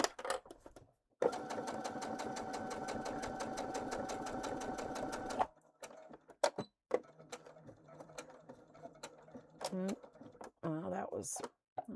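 A foot-pedal-operated sewing machine runs in a fast, steady mechanical rattle for about four seconds, then stops and restarts in short bursts with clicks and handling noises, close and fairly quiet.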